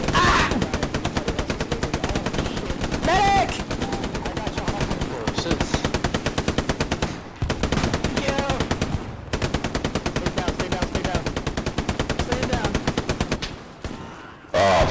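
Machine gun fire in the World War II shooter Hell Let Loose: sustained, rapid automatic bursts with brief gaps, loud and close, with voices talking over parts of it.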